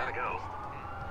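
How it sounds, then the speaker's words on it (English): Police sirens wail in the Watch Dogs video game, a rising and falling tone heard briefly, with a voice speaking over it. "That's a lot of sirens for a blackout."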